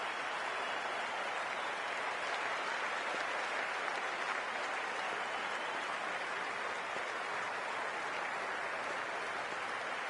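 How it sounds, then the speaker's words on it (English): A stadium crowd at a women's WPL cricket match between RCB and Gujarat Giants roars and claps in a dense, unbroken wash of noise as the players walk out. "a loud crowd as the players make their way out"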